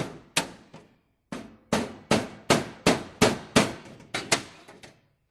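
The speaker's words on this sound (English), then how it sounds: "The interior partitions are removed using a small chisel." Small chisel struck by a hammer to knock out the interior partitions of a recessed towel dispenser, about a dozen sharp close taps in an uneven rhythm, each with a short ringing decay, no talking.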